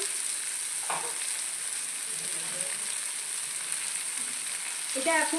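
Mushrooms fry in a pan with a steady, close sizzle that holds throughout, and a few brief stirring clinks and scrapes rise above it.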